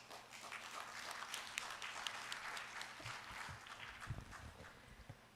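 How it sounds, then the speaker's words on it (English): Sustained applause from a seated audience in a hall at a university law school investiture ceremony, steady dense clapping throughout with a few low thumps near the end, no talk. "Let us all offer a big round of applause."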